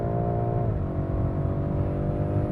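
A BMW M5 Competition accelerates hard in a rolling race, its engine a steady, loud, close drone that shifts pitch once early on as it pulls, with no voices.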